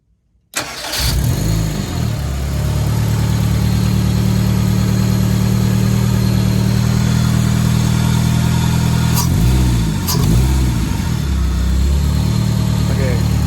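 A Fiat 124 Spider with a swapped-in Honda K-series engine cranks, catches after a sharp start and settles into a loud, steady idle up close, with a couple of brief revs partway through.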